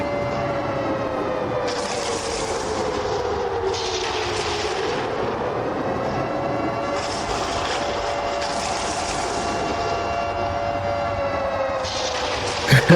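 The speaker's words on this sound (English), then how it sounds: "Let the siren play." A siren wails at a football game, a loud sustained rising-and-falling tone held for the whole stretch over steady crowd noise, with no clear talk.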